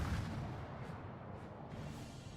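Naval guns fire in a World of Warships match, a dense, continuous rumble of distant heavy gunfire that stays steady and loud throughout, with no voices.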